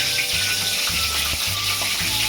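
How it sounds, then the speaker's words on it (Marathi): Green chilies deep-frying in hot oil for Maharashtrian mirchi bhaji, a steady close, loud sizzle and crackle with a low bubbling hum underneath, continuous throughout with no talking. "आता सर्वात प्रथम आपण पहिले मिरच्या तळून घेऊया."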